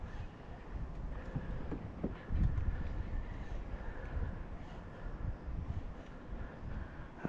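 High wind on a shoreline during kayak fishing buffets the microphone with a constant low rumble and gusty swells, steady throughout with a stronger gust partway through.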